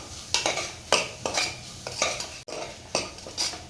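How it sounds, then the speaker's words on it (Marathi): Chana dal being stirred into masala in a pan, with repeated scraping and clinking of a metal spoon against the pot in an uneven rhythm over a light sizzle. "चणा डाळ मसाल्यामध्ये व्यवस्थित असं मिक्स करून झालेलं आहे"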